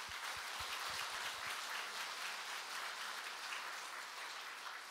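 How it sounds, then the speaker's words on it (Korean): Church congregation applauding together at a New Year's Eve worship service, a steady wash of many hands clapping that fills the room, with no talk over it. "새해를 허락하신 하나님께 우리 다 함께 힘찬 감사와 영광의 박수를 올려드리시겠습니다"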